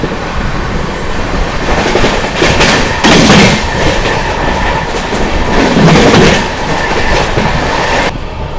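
The Patna–New Delhi Amrit Bharat Express runs loudly past on its rails, a continuous roar with rhythmic clickety-clack from the wheels throughout, close to the listener.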